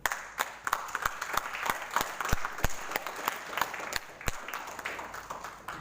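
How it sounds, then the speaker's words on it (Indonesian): Steady applause from an audience honoring a provincial governor at an award ceremony, dense continuous clapping with a few louder individual claps standing out, sustained throughout with no speech over it. "Kasih tepuk tangan."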